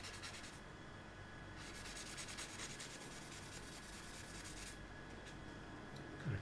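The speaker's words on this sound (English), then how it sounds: "I wonder if I could do a little fine sanding and see." Fine sanding by hand on a laser-engraved knife blade, a steady, faint, close rubbing scratch that continues evenly throughout with slight rhythmic strokes.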